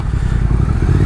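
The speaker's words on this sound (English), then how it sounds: "Nice throaty exhaust. Damn, sounds really good." A 2022 Triumph Thruxton cafe racer motorcycle idles with a deep, throaty exhaust rumble, loud and close with a steady low throb.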